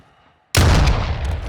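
A single loud, close gunshot from the video game Warzone 2 bursts out after a brief quiet moment and rings on with a heavy boom.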